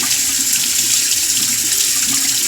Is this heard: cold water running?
yes